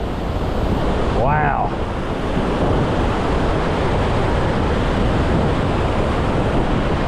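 A waterfall throws off spray outdoors in the wind, making a constant dense roar of rushing water mixed with gusty wind buffeting. A person briefly exclaims over it early on.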